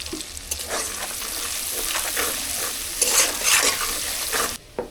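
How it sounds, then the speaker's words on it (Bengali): Onions fry in oil with a bright crackling sizzle while a spatula scrapes and stirs them in short, repeated strokes. "পেঁয়াজটাকে ভালো করে ভেজে নেব।"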